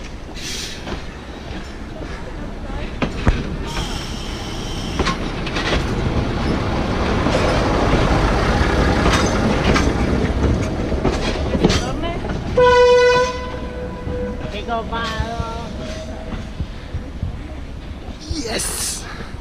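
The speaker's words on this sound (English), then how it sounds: "So I really would like to see a train." A train passes near Aguas Calientes, Peru, close by with a steady rumble and a horn toot near the end, while people talk over it.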